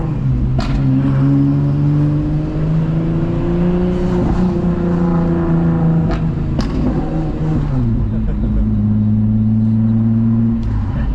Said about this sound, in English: I know it's silly, but I love the pops and bangs this car does.